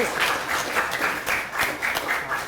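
An indoor audience at an Indonesian talk on a free nutritious meals program gives sustained, fairly loud applause in steady waves of clapping, with no voices over it.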